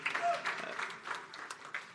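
Faint, thin clapping from a church congregation, brief and uneven, with some crowd murmur mixed in at low level.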